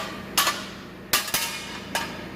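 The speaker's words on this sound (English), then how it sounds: "So here's Larry using our who knows how old of anvil that I just recently got" Hot metal piece, part of a disc mower damaged by a culvert, hammered on an old anvil: four sharp, ringing strikes at uneven intervals, clear and close against a quiet background.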